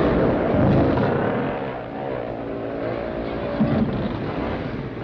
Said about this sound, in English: Those extra grip tires help to pull the bikes up the hills and over the top.